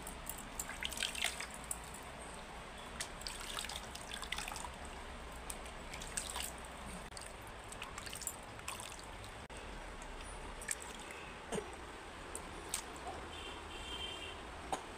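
Water drips and trickles softly while a baby is rinsed during a bath, faint and close, with scattered small splashes and light handling sounds.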